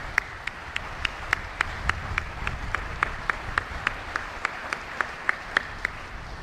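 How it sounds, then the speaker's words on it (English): Audience applause at a U.S. Indo-Pacific military change of command ceremony, a steady background of clapping from a large outdoor crowd with sharp, evenly spaced louder claps standing out near the microphone throughout. "So please join me now in a round of applause."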